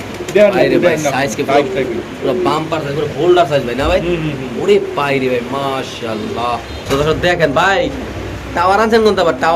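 Pigeons coo at a busy pigeon sale, their throaty warbling rising and falling over several seconds, mixed with people talking nearby.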